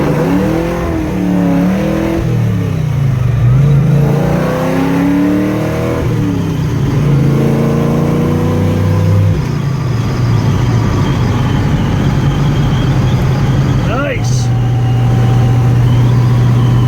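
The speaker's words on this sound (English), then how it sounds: "let's burn a little rubber" A car engine revs hard with rising and falling pitch sweeps, then settles into a steady loud drone while the tires burn rubber; a brief sharp squeal cuts in near the end.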